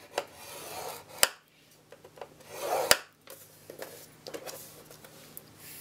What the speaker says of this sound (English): On the 9 1/2 inch side, I am going to score this first at 1 inch, then 4 1/4,